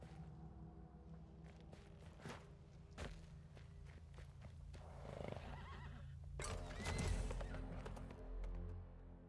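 In the video game Weird West, a horse whinnies and its hooves thud on the ground in separate bursts, with louder trampling and a heavier thump toward the end over a faint background hum.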